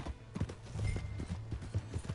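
Horse in the game Red Dead Redemption II, hooves clip-clopping in an uneven series of close, moderately loud thuds over a low background rumble.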